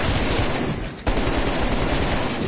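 Dense, continuous automatic gunfire roars at close range during a video game firefight, briefly dipping for an instant before resuming at full loudness.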